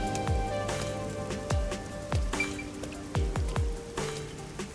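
Rain patters steadily on a city's surfaces in a video game, with a soft continuous wash and scattered heavier drips and plops landing close by at irregular intervals, with no talk.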